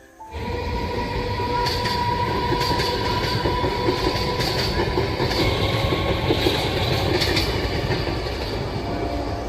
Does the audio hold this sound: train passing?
yes